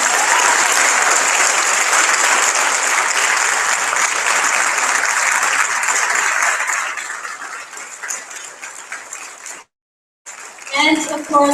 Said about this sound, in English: Applause, guys, come on.